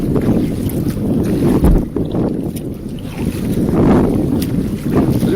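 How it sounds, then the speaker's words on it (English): Strong wind buffets a boat off Key Largo, Florida, a loud continuous roar of gusts against the microphone with low rumbling and water sounds beneath, no voices heard. "It's too windy here."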